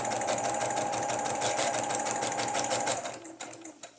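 Sewing machine stitching through paper for a junk journal, with a fast steady mechanical whir and rapid needle chatter close by that runs evenly, then slows and stops near the end.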